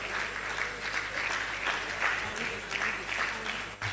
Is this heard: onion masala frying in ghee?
no